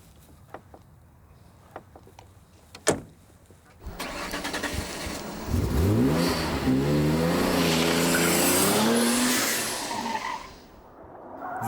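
A Noble M12 GTO sports car starts up after a few clicks and knocks, then its engine revs hard with rising and falling pitch sweeps and a brief tire squeal, loud and close, before cutting out near the end.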